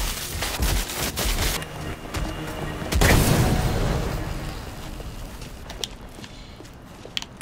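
A bomb detonates among zombies in the video game Dead Island 2, a heavy boom at about three seconds rolling into a long rumbling decay, preceded by a burst of rapid gunfire-like cracks and followed by scattered clicks and clatter.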